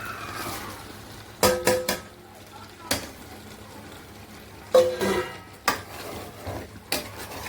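Mutton pieces with bones tumbled into a pot of masala and green chillies for biryani, with a few sharp metal spoon clanks against the pot and soft stirring scrapes over a low background hiss.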